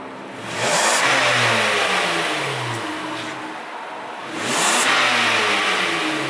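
A Kia car engine runs steadily at idle during a transmission fluid service, droning close and continuously with two brief swells in pitch as it revs slightly.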